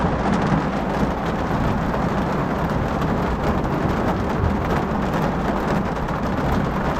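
A heavy thunderstorm pours rain on a campsite in the Great Smoky Mountains, a dense, loud, steady roar of downpour with low rumbling underneath and no voices.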